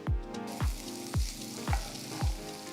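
Chicken majestic tossed in a pan with chopped coriander and mint gives five evenly spaced scraping strokes over a low background sizzle, close and fairly loud, with no voices.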